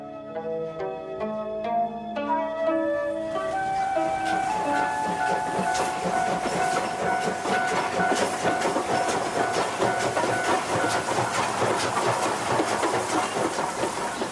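A Japanese train runs on its rails with a steady rumbling roar and repeating clicks. Sustained tonal notes, like a chime or announcement melody, are heard at the start, with a faint hum carrying on beneath the running noise.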